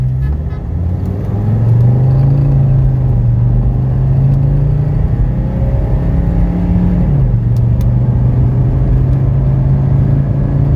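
A car with a rebuilt Mercedes OM617 diesel engine accelerates on a busy highway, a loud, close rumbling drone whose pitch climbs steadily, dips at a gear change, then rises again.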